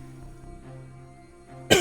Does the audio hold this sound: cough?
yes